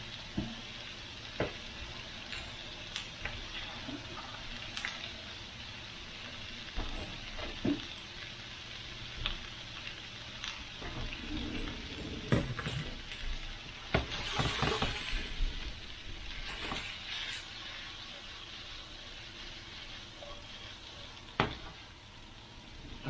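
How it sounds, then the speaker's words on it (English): Peppers fry with steak in a pan, a continuous sizzle broken by repeated scraping and clattering strokes as they are stirred, fairly close and steady throughout. "Throw my peppers in there. Stir this around. Let that cook up really good."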